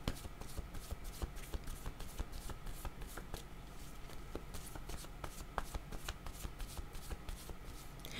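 Tarot cards shuffled continuously by hand, a steady papery riffling and flicking that runs without pause, close and fairly quiet, with no voices.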